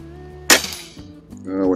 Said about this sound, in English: the discharge sound is quite loud, and that's at the muzzle